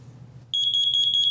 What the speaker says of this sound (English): Carbon monoxide alarms are one of the most important things you can have in your house.